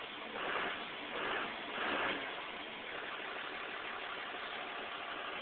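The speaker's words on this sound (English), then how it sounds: "Truck is now running on diesel." A Dodge Cummins diesel truck engine idles on diesel fuel, a low, muffled, steady drone that swells gently a few times early on before settling into an even hum.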